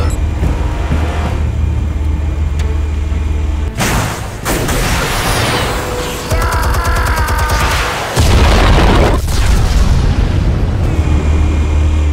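A large explosion in Batman: The Telltale Series, a loud broadband boom bursting in around four seconds and rumbling on, with crackling debris and a second heavy blast near eight seconds over a continuous low rumble.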